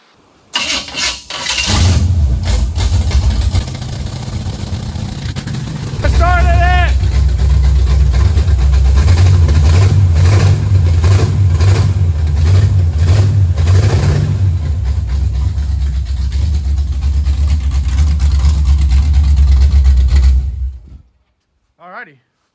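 A 1976 Camaro engine cranks and starts, settles into a deep rumbling idle, then revs up loudly several times before shutting off abruptly.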